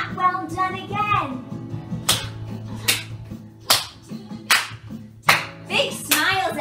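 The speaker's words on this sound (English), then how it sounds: "Let's see if we can clap" Young children in a tiny-tots ballet dance class clap in a few separate sharp bursts spread over several seconds, between stretches of an adult teacher's voice and low sustained music.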